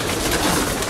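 Racing pigeons belonging to a loft in Vrontou, Katerini, Greece, give a brief soft coo that blends into a dense murmur of birds nearby.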